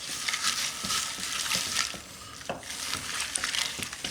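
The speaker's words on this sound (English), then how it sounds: "All right, now we're gonna stir this up a little bit." Potato and kielbasa casserole sizzles and fries in a pan while being stirred, with scraping and clinking strokes at a loose rhythm, close and fairly loud.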